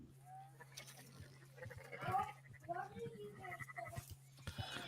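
Sheep bleat a few times in Red Dead Redemption 2, short wavering cries at moderate distance, mostly under someone talking over a low steady hum.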